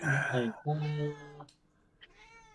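A cat meows loudly and close up, two drawn-out calls followed by a fainter, softer meow after a short pause.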